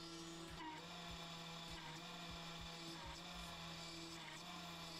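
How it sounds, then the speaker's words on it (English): A Carvera Air CNC machine drills holes with a 2mm drill bit, giving a steady spindle whine and hum with repeated faint thuds as the bit plunges, quiet and continuous throughout. "Next, we can drill our holes for the joiner by switching to a 2mm drill bit."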